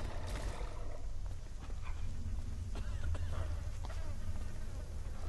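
A dog whimpers and whines in the video game Dishonored, short faint cries over a droning buzzy background with no clear speech.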